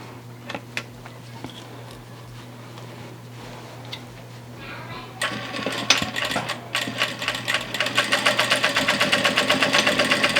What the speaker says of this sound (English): I'm just going to sew a straight stitch